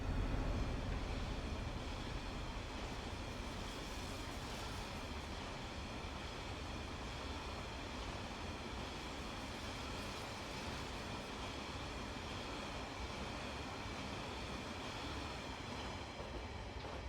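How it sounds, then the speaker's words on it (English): A Class 66 diesel locomotive pulls 18 HHA hopper wagons in Train Sim 2019, a steady droning engine and rolling wheel rumble with faint rhythmic clatter, continuous and even throughout with no talking. "So we are trailing or pulling 18 HHA hoppers in Freightliner heavy haul livery."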